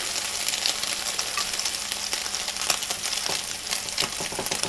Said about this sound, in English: Throw it in your skillet.